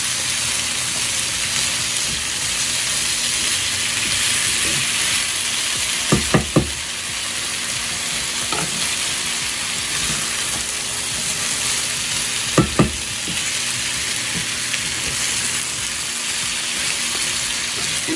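Southern breakfast potatoes fry in a skillet with a steady, close sizzle throughout, broken by a few brief clinks of a utensil stirring, and no talking.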